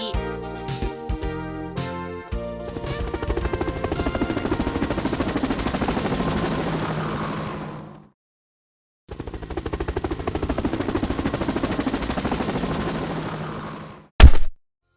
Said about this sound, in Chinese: 警用直升机。 police helicopter